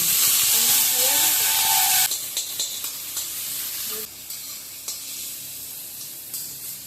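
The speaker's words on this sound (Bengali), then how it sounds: "পেঁয়াজ বাঁধাকপি লঙ্কা ভাজা ভাজা করে নিচ্ছি" Onion, cabbage and chilli sizzle loudly in hot oil for chow mein, a dense frying hiss that drops abruptly partway through, followed by softer sizzling and occasional stirring clatter.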